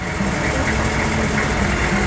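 A 2001 Chevrolet 3500 HD utility bucket truck's turbo diesel engine idles steadily, a continuous low rumble with a faint hum, close and even throughout.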